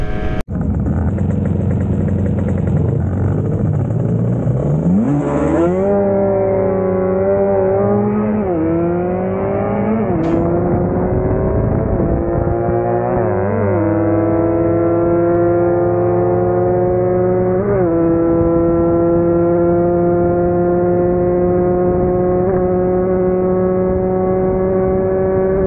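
A Kawasaki Ninja RR engine held at full throttle in a street run against a CBR250RR, loud and close, its pitch climbing in several surges before settling into a sustained high, steady scream.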